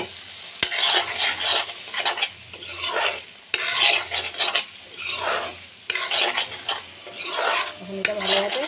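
Fried eggs with broken yolks being stirred into masala in a pan of frothy oil, giving a close sizzle with rhythmic bursts of scraping and clinks from the utensil against the pan.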